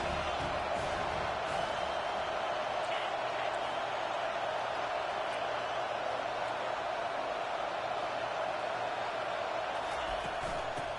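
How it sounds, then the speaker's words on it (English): A stadium crowd at a Penn State vs Colorado college football game roars continuously on a third down. The wash of cheering noise is dense, steady and loud for the full stretch. "Third down, and this crowd is tearing the lid off this place."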